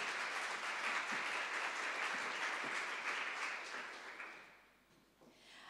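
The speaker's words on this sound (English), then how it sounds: "Can we get a little applause for the two?" Audience at a live-streamed business talk applauds with steady, dense clapping that holds for several seconds and then fades out toward the end.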